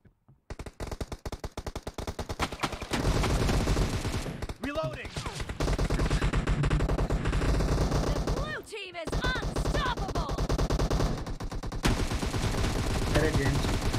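Rapid automatic gunfire in a team deathmatch shooter game, sustained loud bursts nearly throughout with brief pauses, and a voice speaking over the shooting.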